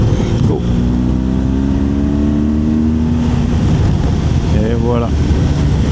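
A BMW R1200GSA motorcycle accelerates to overtake on a road around a lake in Luxembourg: a steady, loud engine drone with rising pitch and wind noise, recorded from the rider's position, with a voice speaking over it.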